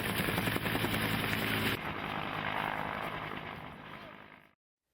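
A loud, close helicopter on a heli-skiing trip in British Columbia, with rapid rotor chopping and engine roar, dropping in intensity partway through, then cutting off abruptly.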